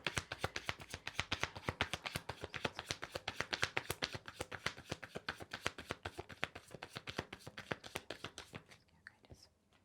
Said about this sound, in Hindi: ठीक है, मैं आपके लिए एक कार्ड निकालती हूँ, गाइडेंस क्या है।